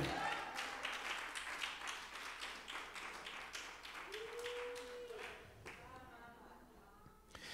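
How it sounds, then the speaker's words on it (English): A church congregation at a resurrection sermon claps hands in a quiet, rhythmic series of soft claps that carries through most of the stretch, with a voice rising briefly partway through. "Lord, I wish I had a hand clap right there"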